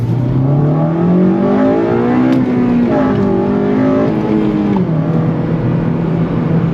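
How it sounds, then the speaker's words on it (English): A 2006-2011 eighth-generation Honda Civic Si engine with a K&N drop-in air filter revs hard into VTEC in first gear, climbing steadily in pitch, a loud sustained roar that dips and rises again as the driver holds the gear. "Let's try VTEC in first gear again."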